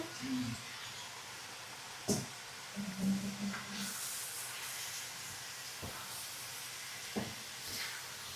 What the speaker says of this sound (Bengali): মূলো আর মূলো শাক একসাথে রান্না করা হচ্ছে